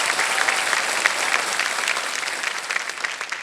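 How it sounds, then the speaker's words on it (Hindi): Studio audience on the KBC quiz show breaks into sustained, dense clapping that fills the stretch evenly and close, without speech over it. "एक बार फिर तालियों के साथ हम इनका अभिनंदन करते हैं, स्वागत करते हैं"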